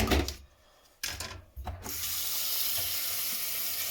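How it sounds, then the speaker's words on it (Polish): Water pours over tiger nuts being prepared as fishing bait, starting with short splashy bursts and settling into a steady close rushing flow. "To zalewam teraz sobie oczywiście wodą."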